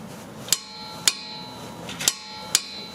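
On a Dodge brake bolt, a torque wrench gives four crisp, sharp clicks, spaced about half a second apart, loud and close against a quiet background with no talking.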